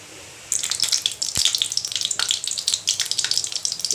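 Cumin seeds crackle and sizzle in hot oil, starting abruptly with a steady stream of sharp pops and spits close by.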